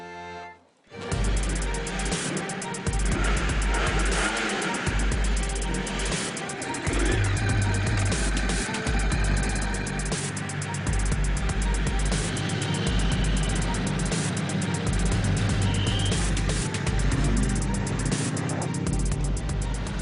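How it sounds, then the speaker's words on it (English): A Ducati Scrambler 1100 motorcycle on a road ride, its engine droning continuously with rises in revs and wind rush throughout, loud and close with no pauses. "I'll be test riding the latest model of the Scrambler 1100"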